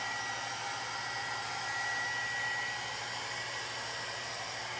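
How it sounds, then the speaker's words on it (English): A heat gun blows over wet chalk paste on a pillow cover, making a continuous steady whooshing drone with a faint high whine, close and even throughout, with no voices. "just running the heat gun over it."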